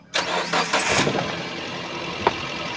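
A 2014 Suzuki Carry 1.5 pickup truck engine cranks briefly and catches, then settles into a steady, smooth idle with a faint click near the end.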